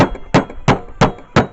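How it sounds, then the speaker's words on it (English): A spiked tenderizing hammer pounds meat for Wiener schnitzel: four loud, close, dull thuds in a steady rhythm, about a third of a second apart, on a kitchen surface. "I use this hammer with the spikes on one end, and basically it's a tenderizing hammer"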